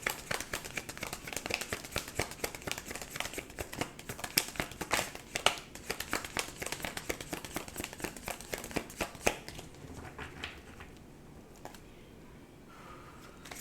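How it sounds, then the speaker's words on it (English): Tarot cards are shuffled over and over, giving a dense, rapid papery rustle and flutter for about nine seconds before it tapers off into quieter handling. "Shuffling cards, definitely, you're getting that arm workout in."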